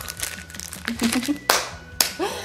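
A plastic package of semi-hard cheese is crinkled and torn open up close in a few short rustling bursts, with people talking over it.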